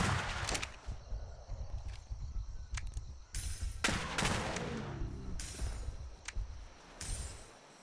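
Naval guns fire in a Royal Navy roleplay video game, several sharp, loud shots with long rumbling booms spaced across a few seconds, over steady low background rumble.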